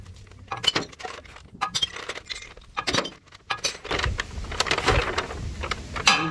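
Glass bottles clink and knock together as they are handled, giving irregular bright chinks and rattles in bursts, close and fairly loud, with no talk.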